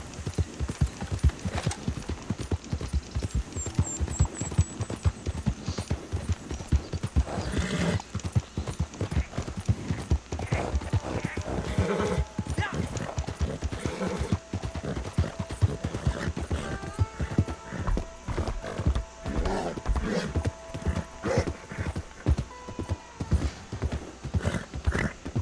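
Horse hooves galloping steadily in the video game Red Dead Online, a continuous rhythmic clip-clop over outdoor ambience with an occasional whinny.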